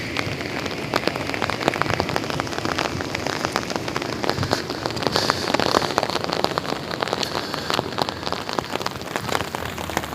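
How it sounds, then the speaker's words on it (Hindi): Steady rain patters onto surfaces at Banjosa Lake near Rawlakot, a dense continuous hiss of drops with scattered sharper taps, close and even throughout with no talk. "और हल्की हल्की बूंदाबांदी"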